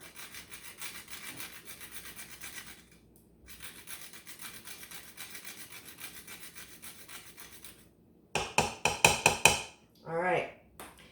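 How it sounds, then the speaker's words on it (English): Whole nutmeg rasped against a grater over a pot, a steady scratchy rubbing that pauses briefly, then a few sharper, louder strokes and a final scrape, close and with no talking. "I've got a whole nutmeg, and I'm just going to grate a little bit of that into my pot."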